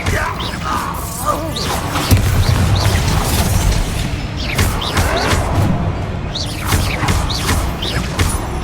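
Explosion spells in the Hogwarts Legacy video game make loud, booming blasts with crashing debris, repeated several times over a churning combat soundscape, with voices speaking in between.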